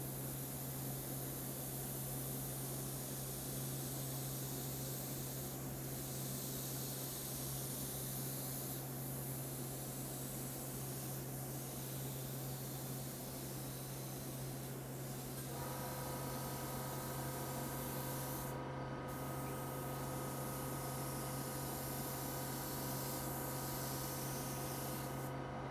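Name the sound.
airbrush spraying paint onto prints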